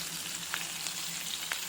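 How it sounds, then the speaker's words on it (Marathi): Green chilies and two dried red chilies fry in hot oil, giving a soft, steady sizzle with a few small crackling pops. No one talks. "मी आता याच्यात तेल घातलं आहे आणि मी यामध्ये घालते आहे हिरव्या मिरच्या, 2 सुक्या मिरच्या"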